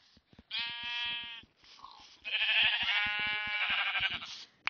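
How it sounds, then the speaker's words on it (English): Minecraft sheep bleat repeatedly in the video game, two long wavering bleats, the second louder and stretched, with small clicks and game noise between them and no talk. "Another sheep!"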